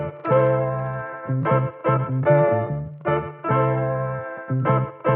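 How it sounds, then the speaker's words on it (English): A Cymatics sample loop plays back in Logic Pro X, a repeating melodic phrase with sustained tonal chords that stop and restart in short bursts, loud and clear with no talking. "So the cymatics loop sounds like this."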